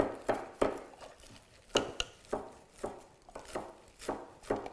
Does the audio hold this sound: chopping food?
yes